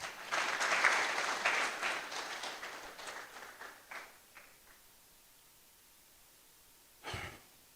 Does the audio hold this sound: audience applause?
yes